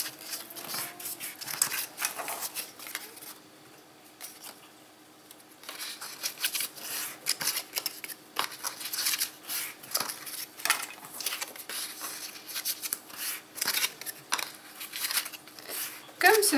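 Scissors snipping paper for a handmade album, a series of short crisp cuts and rustles in an uneven rhythm, with a person talking between them.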